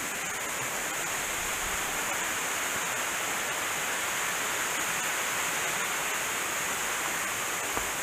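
A mountain cascade in Pisgah National Forest rushes steadily nearby, a broad constant roar of falling water with no voices.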